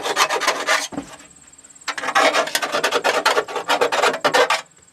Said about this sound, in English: Here's a deburring tool right there, which you basically pull around the hole.